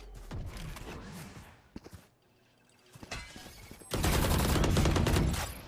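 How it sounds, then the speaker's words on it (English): In a competitive Valorant match on the map Ascent, gunfire rings out in scattered shots, then the Odin machine gun fires a long, loud, sustained automatic burst of rapid rounds that ends abruptly. "we're going to see the most fun gun in the game being used, the Odin"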